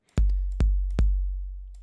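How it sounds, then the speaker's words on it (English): Deep 808 kick drum sample struck four times in an uneven pattern, each hit a sharp click followed by a long, booming sub-bass tail that sustains between strikes, loud and isolated with no voices. "So I had this 808 kick"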